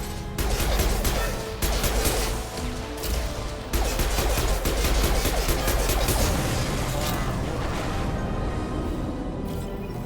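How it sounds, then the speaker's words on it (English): Dense, continuous impact-shot gunfire from the video game Mass Effect 2, loud and broadband with bursts and crashing hits running through the whole stretch, with no clear gaps. "Firing an impact shot."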